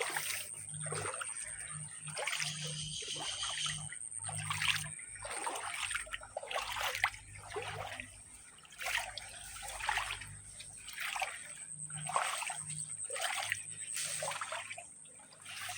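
Creek water trickling and splashing outdoors, a steady close flow with soft surges and gurgles throughout.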